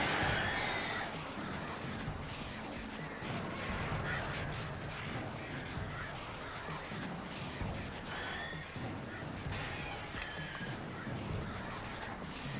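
Attacking birds in the Alan Wake video game squawk and caw repeatedly against a dense, noisy game backdrop, with harsh calls scattered throughout at a fairly low level.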